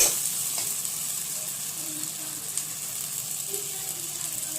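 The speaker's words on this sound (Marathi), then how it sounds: "गरम मसाला घालून असं चांगलं तेल सुटोपर्यंत आपल्याला हे परतून घ्यायचं आहे." Paneer bhurji with garam masala sautés in oil, giving an even, close frying hiss that holds throughout, with faint occasional clinks of stirring.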